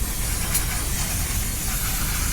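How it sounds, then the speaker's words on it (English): Brake cleaner sprays onto the rear brake parts of a 2015 Maserati GranTurismo convertible in a continuous close hiss lasting a couple of seconds, with no talk. "let's just spray this with brake cleaner"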